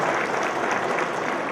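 A crowd applauds a guest introduced at an event: a dense, steady wash of many hands clapping, loud and continuous with no gaps.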